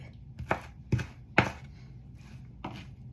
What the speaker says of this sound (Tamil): இப்படி இந்த நாலு வெங்காயத்தையும் வெட்டி கொள்ளுவோம்